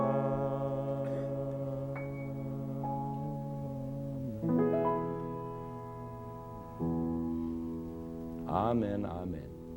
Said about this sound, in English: you'll clearly hear two amens, plagal cadences as they are known, just as they are heard in church at the end of hymns